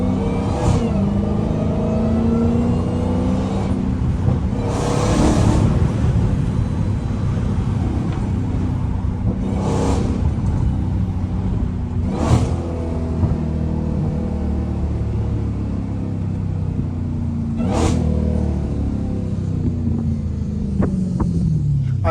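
Dodge Hellcat engine revving and rumbling steadily from inside the car on a road in stormy hurricane weather, with several sharp louder rev bursts rising above the continuous drone and rain-like hiss throughout.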